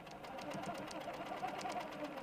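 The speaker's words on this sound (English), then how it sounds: "And I'm going to start stitching." A sewing machine set to 12 stitches per inch stitches along a dual edge ruler, a fast, steady mechanical whirring with rapid even needle pulses, close and continuous.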